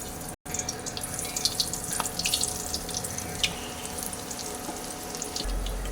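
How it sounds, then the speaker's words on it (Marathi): Steady sizzling and hissing of sweet corn bhaji frying in hot oil, with faint crackles and pops throughout, close and constant. "तेल गरम झाले त्यामध्ये एक एक भजी सोडूया आपण"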